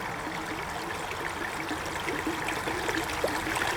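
A creek running over stones, giving a continuous bright trickling and burbling rush, moderately loud and even throughout, with no voices.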